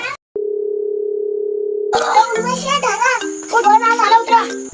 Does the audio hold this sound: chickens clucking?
no